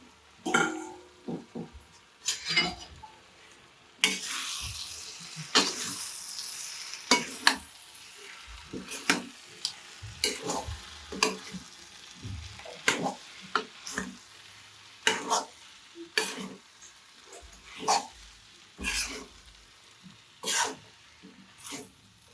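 Vegetable fried rice being stirred and tossed in a pan, with steady clinks and scrapes of a spoon against metal over a light sizzle, in irregular bursts close by.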